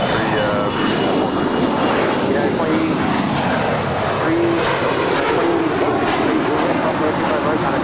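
An airliner rolls slowly on the ground at LAX airport, its engines a loud, continuous roar and rumble close by, with voices talking over the engine noise.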